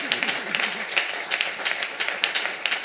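A church congregation applauds to acclaim God, a broad, steady wash of many hands clapping, moderately loud and sustained, with a faint voice at the start.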